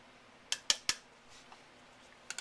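Fresh whole nutmeg grated over a fruit crumble, giving a few short, crisp rasping scrapes close up, three in quick succession, then a pause and a lighter pair of strokes.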